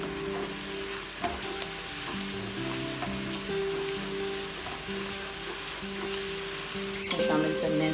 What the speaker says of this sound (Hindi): लहसुन, हरी मिर्च, अजवाइन और नमक का पेस्ट, हल्का सा इसको सोते करना है हमने।